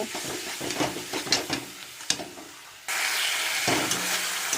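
Masala for pointed gourd kofta is fried and stirred in a pan. Soft scraping stir strokes and a low sizzle come first, then a steadier, louder hiss swells up and carries on to the end.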